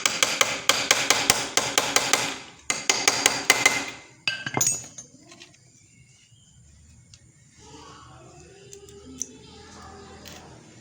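A magnet is hammered into the oil pan of an old Honda Supra motorcycle: quick bursts of sharp metallic hammer blows, close and loud, then the work goes quiet with only faint shop noise.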